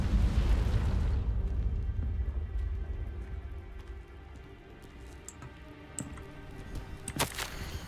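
A Confringo spell blast in the video game Hogwarts Legacy opens with a loud, deep rumbling explosion that fades after about a second into a low crackling tail, with a few faint pops later.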